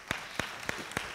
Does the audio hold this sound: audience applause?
yes